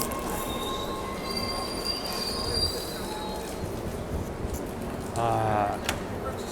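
A subway train rumbles along with a steady roar and high metallic wheel squeals, heard from inside the car.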